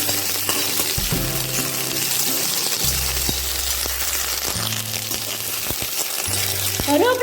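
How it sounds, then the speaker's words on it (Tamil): Curry leaves roast in a pan for a lentil powder, crackling and sizzling loudly and close while a utensil scrapes and clinks against the metal, over a low steady hum. "கருவேப்பிலையும் நம்ம நல்லா ரோஸ்ட் பண்ணிக்கணும் கிறிஸ்பாக ஆற வரலையும்."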